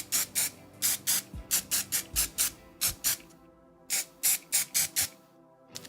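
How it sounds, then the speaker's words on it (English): A can of thermal hairspray is shaken and sprayed near a microphone. Bursts of rapid rattling strokes alternate with short hissing sprays in an irregular rhythm, close and fairly loud. "I have a thermal hairspray"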